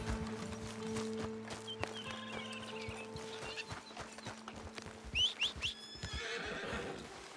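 Horse in the video game Red Dead Redemption 2 snorting and whinnying over the clip-clop of hooves, with steady background game music and a sharp neigh near the end.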